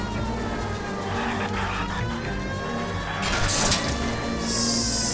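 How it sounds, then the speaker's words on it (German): A police car siren wails in the video game LA Noire over a continuous car engine drone, with tire skids and a crash-like burst partway through. "jetzt weiß ich wenigstens, wie ich hier die Sirene anmachen kann"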